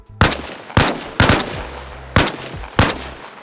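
AK rifle shots fired at the side latches of a US vehicle: five loud, sharp reports spaced at slightly uneven intervals, each with a brief ringing tail, close and alone.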